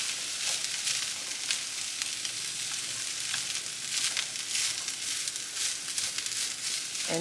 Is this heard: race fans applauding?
no